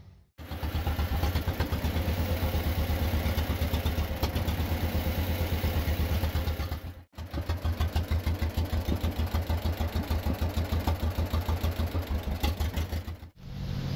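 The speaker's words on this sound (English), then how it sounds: "So we're going to go ahead and fire it up now, check our oil pressure" A 1949 John Deere tractor engine idles with a fast, even, loud chugging pulse, cut off abruptly twice and picking right back up, with no talk over it.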